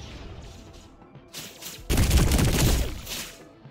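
Rapid gunfire bursts from the sci-fi shooter game High on Life, a quieter volley early on, then a loud sustained fusillade of shots that tails off toward the end.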